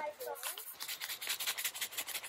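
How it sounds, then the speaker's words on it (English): Close-up crinkling and rustling of a thin plastic bag from a rooftop tent kit being pulled open, quick rubbing crackles in a brief burst. "We basically are going to open this this plastic baggie up."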